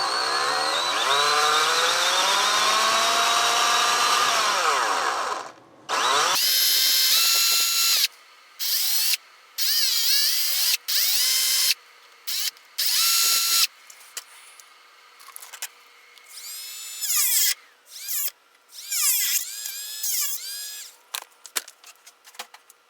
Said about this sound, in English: So what I'll do is I'll just drill it a bunch of times.